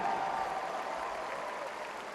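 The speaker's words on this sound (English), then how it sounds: "We'll give them a big round of applause." Faint, steady applause from a crowd at a Democratic Party political event, a continuous wash of clapping that fades slightly toward the end.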